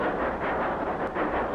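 A train rolls steadily along the rails in a Western film, a continuous loud rumbling roar with no talk over it.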